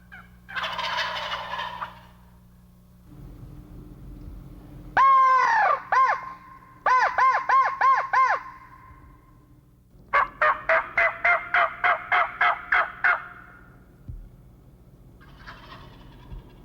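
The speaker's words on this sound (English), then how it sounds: "you're going to hear turkeys gobbling" Wild turkeys gobbling in spring, several loud rattling gobble bursts at close to moderate range, interspersed with squawking calls and quieter pauses, over a low steady background hum.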